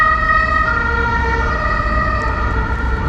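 Emergency siren wails steadily over heavy street traffic beside a traffic court, loud and close throughout with a low rumble of vehicles underneath.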